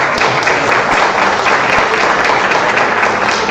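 Sustained audience applause at a financial management seminar, dense steady clapping from a crowd with no pauses, loud and close throughout.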